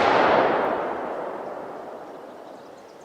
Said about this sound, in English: I'll shoot the tree beside him there.